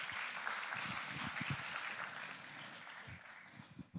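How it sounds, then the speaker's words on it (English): Audience clapping at an informal Mother's Day gathering, a steady patter of many hands that runs throughout at moderate loudness and tapers slightly toward the end. "Yeah, we like to clap."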